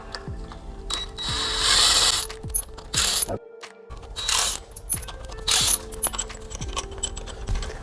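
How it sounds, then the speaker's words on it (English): Wheel bolts coming off the front of a Porsche 958 Cayenne Turbo with a ratchet, rapid clicking pawl bursts repeating in quick runs, loud and close, with metallic clinks between. "the first step is gonna be removing both front wheels"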